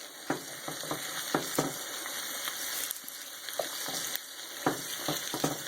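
Pork steak coated in spice paste sizzles steadily in a pan, a continuous moderate fry with scattered crackles and a few soft utensil knocks spread through the clip, no voices.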